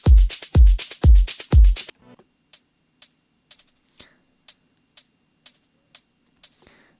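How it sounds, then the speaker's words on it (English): Afro house drum pattern: four heavy kick-and-hat hits open, then a sparse run of crisp hi-hat ticks on the offbeat at a steady pace, with small echoing delay repeats trailing some hits and no talking. "you'll hear there's some cool details in this hi-hat pattern, like you can hear these like little delays and stuff."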